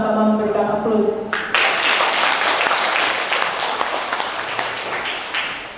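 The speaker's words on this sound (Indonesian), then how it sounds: "marilah sama-sama memberikan aplaus" Audience at an annual cooperative members' meeting breaking into applause after a brief spoken line, dense clapping that holds steady for several seconds in a large room, then tapers off.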